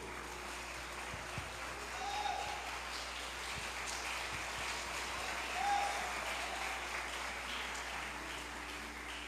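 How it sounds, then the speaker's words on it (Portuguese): A church congregation at a revival conference claps together in sustained applause, a dense, even patter of many hands in a large room. It continues for the whole stretch with little change. "vamos receber o servo do Senhor com aplausos a Jesus"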